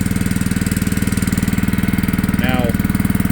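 Small pump engine on a single-axle 330-gallon water trailer runs at a steady idle, a close, even chugging drone throughout, with a brief faint squeak or voice-like chirp partway through.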